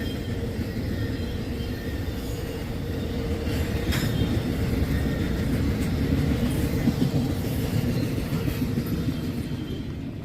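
CSX freight train rolling past on a windy day, a continuous heavy rumble of railcars and wheels with faint squeal and clatter, steady and close throughout.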